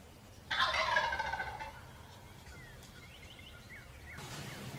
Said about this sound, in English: watch how close this turkey gets to it